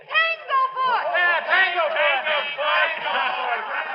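A radio-drama crowd roars and chants together like a battle cry at a baseball game, a loud massed wave of voices that rises and swells continuously with no single speaker standing out.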